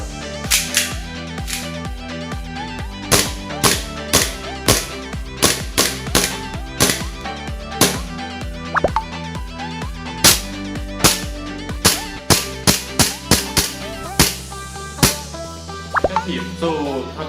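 Sig Sauer P226 BB gun firing repeatedly, sharp loud close snaps in an uneven series with short pauses, under some background sound and without talk.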